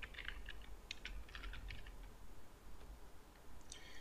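Quick, light keystrokes on a computer keyboard come in short bursts with brief pauses, close and fairly quiet against a faint background hiss.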